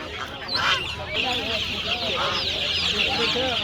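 Busy clucking and squawking from many chickens at once at a poultry market in Adana, loud and close, with a faint murmur of people in the background.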